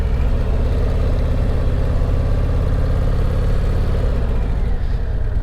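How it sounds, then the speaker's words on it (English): A 2023 Harley-Davidson CVO motorcycle engine runs smoothly at a steady, even throb, loud and close, with a continuous low rumble throughout. "Boy, this is ultra smooth motor."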